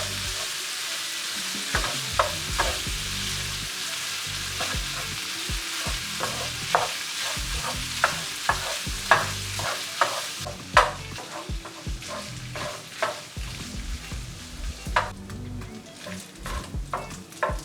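Chorizo frying and sizzling in its own grease in a pan, a steady crackle broken by repeated scraping and stirring knocks from a utensil against the pan, close and continuous with no talk.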